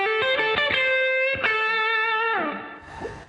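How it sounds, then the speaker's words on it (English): A distorted electric guitar plays a short blues lick: a few quick picked notes, a sustained tone, then a bend that fades into a quiet tail, heard alone. "play a typical blues lick for you that you might play with a little distortion on it."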